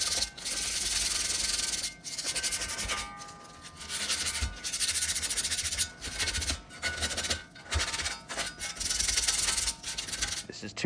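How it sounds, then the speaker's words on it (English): A truck tow hook on an F350 is hand-sanded with 200-grit sandpaper, a close, scratchy rubbing in repeated strokes broken by short pauses, with no one talking. "I gotta sand this up real quick."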